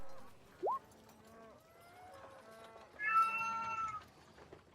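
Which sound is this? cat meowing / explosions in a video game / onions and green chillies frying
cat meowing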